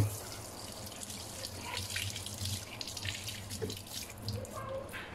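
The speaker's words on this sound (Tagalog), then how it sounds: "Banlawan nyo siya agad." Tap water runs steadily into a sink as a Noblet Paris clarinet body is rinsed, a close, continuous splashing with small shifts as the piece moves under the stream.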